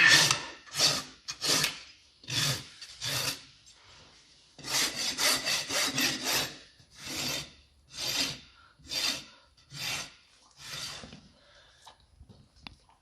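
A farrier rasps a horse's front hoof during a rough trim, taking off flare: rhythmic bursts of coarse scraping strokes, close and loud, in groups with short pauses between them and no talking.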